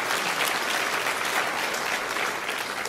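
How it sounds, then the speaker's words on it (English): Steady, dense applause from an audience at a leadership talk, sustained and even throughout with no voices over it. "So give him a round of applause."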